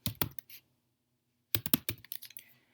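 Quick clusters of computer keyboard keystrokes, a few taps, a pause, then a longer burst of clicky typing close by, with no talking.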